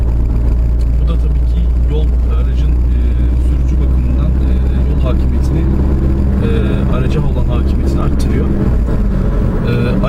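A Peugeot 208 accelerates on the road, its engine drone and road rumble steady and heavy from inside the car, with a voice talking over it.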